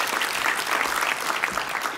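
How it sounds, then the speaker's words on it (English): An audience applauds after a talk on stage, with dense, even clapping that holds steady from start to finish. "Another round of applause."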